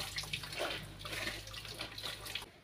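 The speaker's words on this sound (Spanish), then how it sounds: "Esto de sacar y meter la ropa es cansado, yo lo sé." Wet laundry is lifted out of wash water and pushed back in, sloshing and dripping in irregular splashes close by, with no talking.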